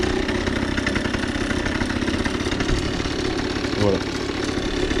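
A cold Booster scooter engine idles close by with a steady, buzzing two-stroke putter and light mechanical clatter throughout, while someone speaks briefly over it.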